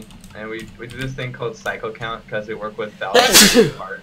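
A single loud, close sneeze bursts out near the end, right after someone talks steadily over quiet keyboard clicks during a PUBG gaming session.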